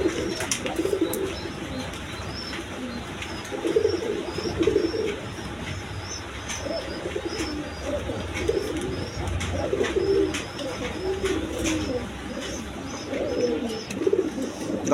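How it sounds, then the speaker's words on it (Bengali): A pair of high-flying Giribaz pigeons coo in a loft, repeated soft, throaty rolls coming in bursts every few seconds over a steady background hiss, with occasional light chirps. "এইখানে এক পেয়ার হাইফিলিং গিরিবাজ কবুতর আছে"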